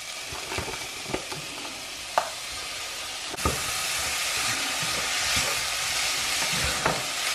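Minced beef fries in a pan with a continuous moderate sizzle that swells partway through, broken by occasional scraping knocks of stirring.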